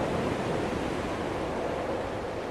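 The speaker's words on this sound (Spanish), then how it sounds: "Y volvemos a escuchar el sonido del mar" Sea waves wash steadily in the video game Dear Esther, a broad, continuous hiss of surf that stays even and unbroken, with no voices over it.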